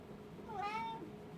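A single cat's meow, drawn out and rising then falling, fairly close and clear over a quiet room hum.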